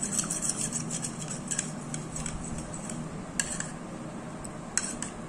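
A spoon stirs an egg and curd mixture in a bowl, making close, brisk scraping with a few sharp clinks against the rim.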